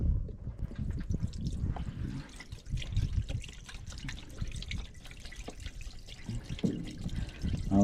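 Water from a hose running into a car radiator, an uneven trickling and splashing with irregular drips and gurgles, close and fairly loud, continuing steadily with no talk.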